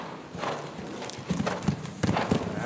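Horse hooves clip-clopping on an arena surface during a riding lesson, a steady rhythmic trot of soft thuds, moderately close, with no talk.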